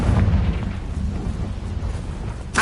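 Confringo explosion spell in the Hogwarts Legacy video game, a heavy booming blast that rumbles and decays over a couple of seconds, followed by a sharp burst at the end, loud and close.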